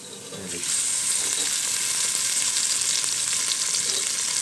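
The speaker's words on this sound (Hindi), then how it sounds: "प्याज को ब्राउन कर लेते हैं अच्छे तरीके से।" Onions frying in about two spoons of oil, a bright continuous sizzle that swells up loudly after a quieter start and then holds steady, close to the pan with no talking.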